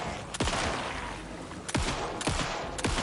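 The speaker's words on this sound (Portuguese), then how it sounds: "tive que atirar pra porra neles" Gunfire in the video game Alan Wake 2, four loud, sharp shots spaced irregularly over a steady rumbling background, each with a quick falling tail.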